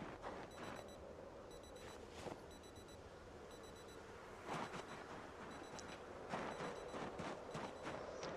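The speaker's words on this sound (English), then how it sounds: "We're still having that alarm going off." Repeating electronic alarm in the zombie survival game Project Zomboid, sounding as short evenly spaced beep bursts in groups, with scattered thumps and game noises around it; no speech.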